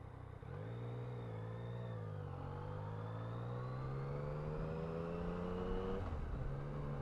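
A Yamaha Tracer 900 GT motorcycle engine hums steadily at low revs during a slow U-turn, with the pitch rising gently and then dipping near the end. The sound is moderately quiet and continuous.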